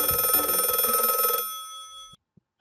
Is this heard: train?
no